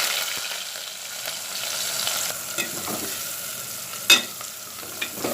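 Onions fry with a few fenugreek seeds in a pan, a soft continuous sizzle with occasional scrapes of a spoon stirring and one sharp clink of utensil against the pan near the end.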